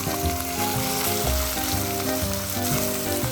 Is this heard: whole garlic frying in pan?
yes